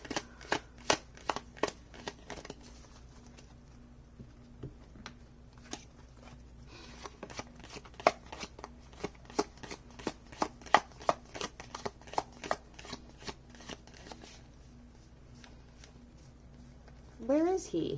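Tarot cards from a Fountain Tarot deck are flicked through one by one, giving a long run of quick, crisp snaps at an uneven pace, close and fairly quiet, ending in a brief shuffling burst.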